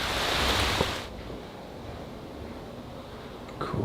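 Heavy rain pours steadily outdoors as a dense, hissing wash. It is louder at first, then settles into a softer continuous patter.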